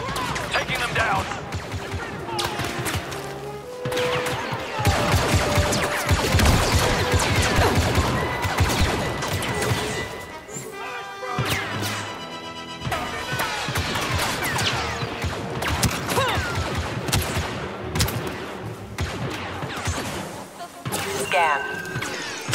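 Blaster fire in Star Wars Battlefront 2 on the Imperial-held moon Yavin 4, a dense, continuous barrage of shots and crashes filling the whole stretch, with voices talking over the combat.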